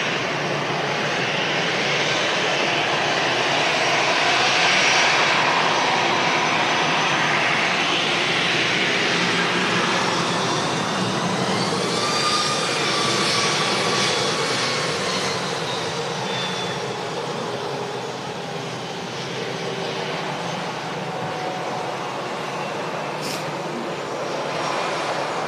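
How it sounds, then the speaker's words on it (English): An EasyJet airliner at Manchester Airport roars loudly, a sustained jet rumble with a rising, sweeping whine that builds early and stays strong throughout, heard alone without voices. "Making a lot of noise, that EasyJet."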